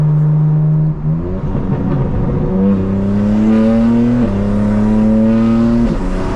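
A 2024 BMW M4 Competition xDrive (G82) with exhaust valves open drones loudly from inside while driving, its engine note climbing in pitch in stepped surges as it accelerates through gears.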